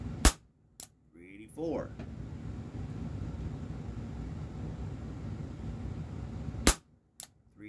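A Walther PPS M2 airsoft pistol by Umarex fires .12 gram BBs in sharp, loud single cracks, one near the start and a couple near the end, with someone talking in between.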